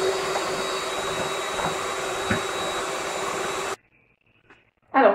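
Electric mixer beating egg whites, a loud, steady motor whine running close by for almost four seconds, then cutting off into silence before a brief clatter.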